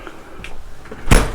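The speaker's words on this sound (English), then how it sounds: "Oh, my door just shut." Camper door shutting with a single loud thud near the end, broadband and close, after a quiet stretch of faint rustling and handling noises; no talking.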